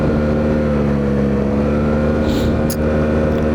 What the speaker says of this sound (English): The exhaust sound, or the engine sound